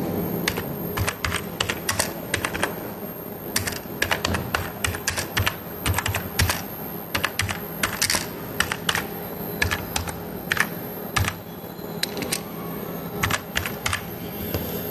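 Rapid, steady keystrokes on a computer keyboard while typing an email campaign subject line, close and clear, with irregular bursts of clicks and short pauses over a constant low hum, no talking.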